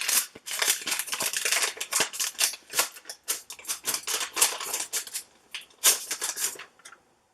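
A mailed package with wax-paper-like wrapping is torn and cut open up close, giving a dense run of crisp rustling, ripping and snipping bursts that stop abruptly near the end.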